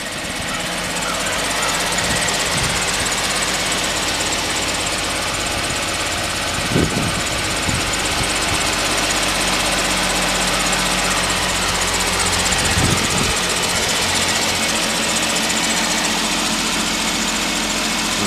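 A 2016 Jeep Wrangler Unlimited 4x4 engine runs steadily with a loud, continuous rumble from close by, broken only by a couple of brief knocks or thumps, with no talking.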